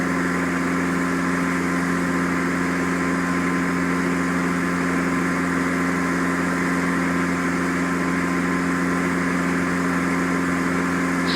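Light airplane engine holding a steady 2400 RPM in level flight in Flight Simulator X, a constant droning hum with no change in pitch or rhythm, loud and unbroken throughout with no voices.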